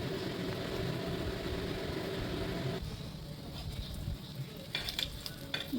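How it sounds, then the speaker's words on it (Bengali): Stuffed spiny gourd (kakrol) chops fry over medium heat until reddish, giving a dense, even sizzle that drops to a softer hiss partway through, then a few sharp spatters and crackles near the end, heard up close without talk. "আঁচটাকে মিডিয়ামে রেখে আমি এখন এগুলো ভালো করে লাল লাল করে ভেজে নিই।"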